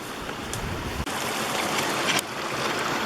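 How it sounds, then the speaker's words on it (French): Small river flowing under a log bridge in Canadian woods, a steady nearby rush of water with a few brief splashes and knocks. "Avec la petite rivière qui passe là."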